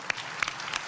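Applause breaks out from the audience at the opening ceremony of the Central American and Caribbean weightlifting championship in Santo Domingo, a scattered, fairly faint patter of claps with a few sharper hits standing out.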